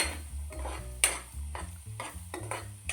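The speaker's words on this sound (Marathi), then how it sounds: "ह्याला बारीक गॅसवरच तुपामध्ये परतून घ्यायचा आहे" Khoa sautéed in ghee over a low flame, stirred with repeated scraping strokes against the pan over a faint sizzle and background music.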